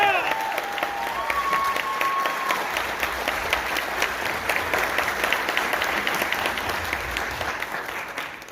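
An audience at a school surprise dedication event in Premple gives a steady round of applause, dense continuous clapping from a crowd filling the room, with a few faint cheers.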